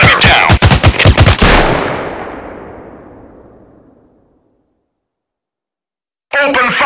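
Rapid automatic gunfire from a mobile first-person shooter game, a dense loud burst of shots lasting under two seconds, then a long reverberant decay into silence before a brief new sound at the end.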